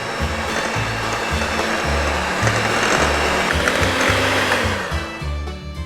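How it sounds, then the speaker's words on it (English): A handheld electric mixer whirs steadily through peach cobbler batter in a Kentucky home kitchen, a loud continuous motor drone with slight pitch wobbles as the beaters move, running alone without speech. "I'm going to start mixing this up."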